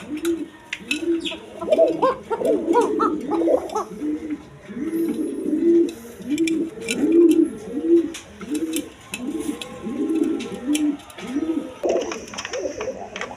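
Giribaz pigeons cooing in steady, repeated low rolling coos, close and moderately loud, with faint background noise and no talking.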